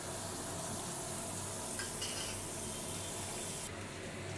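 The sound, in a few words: ginger-cumin paste added to the frying pan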